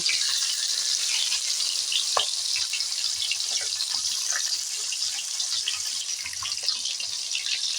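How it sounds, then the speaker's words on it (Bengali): A fish head sizzles in hot oil in a pan, a constant dense crackle holding steady throughout with faint scattered pops and a few sharper spatters, and no voices. "মুড়ো মাছটা উল্টে পাল্টে ভাজা করে নেব"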